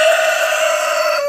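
A rooster crows in one long, loud, sustained call close by, with no other sounds around it.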